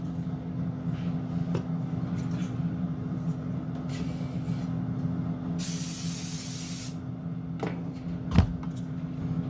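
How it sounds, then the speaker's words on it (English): A steady hiss of cooking spray from an aerosol can onto an air fryer tray lasts about a second and a half, over a constant low kitchen hum. "I'm just gonna spray it with some pan."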